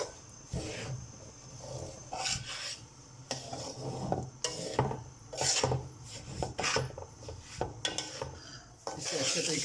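A spoon scrapes and rasps steadily against a kadhai as semolina is stirred and roasted in ghee, with repeated irregular metallic scrapes and clinks close up and no talking.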